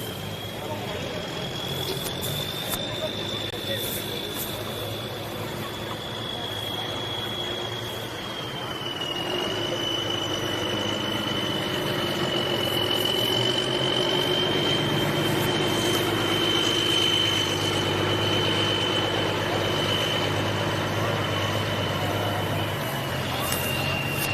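Pulling tractor engine running at a championship truck and tractor pull, a loud sustained roar with a steady high whine across the clip and the crowd and announcer audible beneath it.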